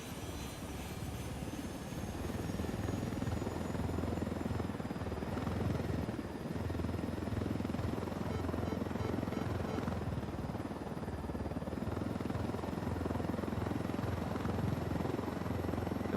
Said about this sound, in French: un hélicoptère qui arrive au moment